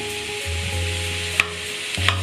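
Roughly 500 grams of mince frying in a pan, a steady close sizzle with a low hum beneath and a couple of sharp clinks from a spoon stirring against the pan.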